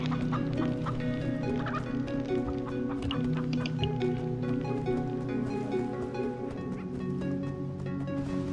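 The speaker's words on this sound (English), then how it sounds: "you see that chicken? He loves playing chase." A chicken clucking in the video game Minecraft Story Mode, continuous fowl calls layered over a steady tonal game soundtrack, fairly loud with no talking.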